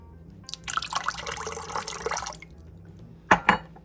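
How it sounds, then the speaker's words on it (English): Almond and vanilla essence pour into sweet potato pudding mix, making a faint liquid trickle that lasts about two seconds. Two brief bright clinks from glass or a spoon follow near the end, and nobody speaks. "We're going to add our essence, almond essence, our vanilla"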